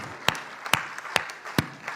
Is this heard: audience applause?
yes